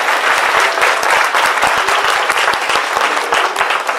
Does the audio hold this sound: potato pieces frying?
no